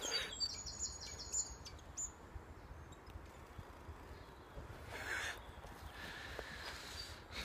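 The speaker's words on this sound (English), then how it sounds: "Birds are tweeting, just about." Small birds chirp and tweet faintly around a garden allotment in spring, scattered high calls over a steady outdoor background hiss, with no talking.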